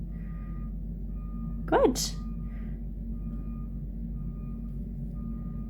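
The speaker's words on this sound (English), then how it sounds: "I'm right beside a very busy road and we've got some trucks coming in" Trucks reversing beside a busy road: a brief warning beep sounds briefly over constant low traffic rumble, and a person speaks briefly.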